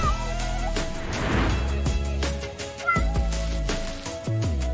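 A pet cat meows with drawn-out tonal cries, close and fairly loud, over a background of light music.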